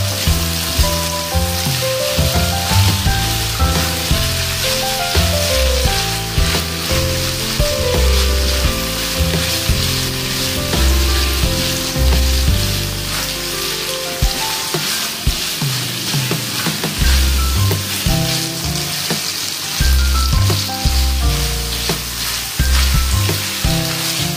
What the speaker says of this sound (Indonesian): Nanti kita aduk-aduk.